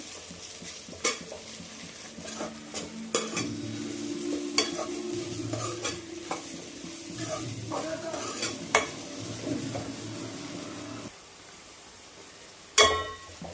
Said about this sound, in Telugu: అల్లం వెల్లుల్లి పేస్ట్ కొంచెం పచ్చివాసన పోయే వరకు వేయించుకున్నాము